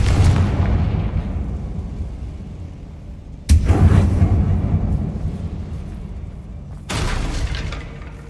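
Confringo fire spell from Hogwarts Legacy bursting inside an abandoned, tomb-like mine: two loud, booming explosions with long rumbling decay over a constant low rumble, the second blast landing about halfway through and a further burst near the end.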